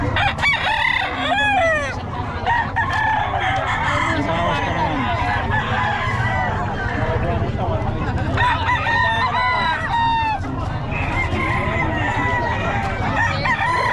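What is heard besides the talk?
roosters crowing and clucking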